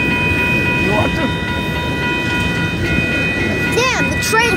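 Two Union Pacific trains pass in El Paso, a loud continuous rumble of rolling railcars with steady mechanical tones and squealing wheels, close by, with voices faintly underneath.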